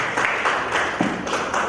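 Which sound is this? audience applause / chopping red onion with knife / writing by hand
audience applause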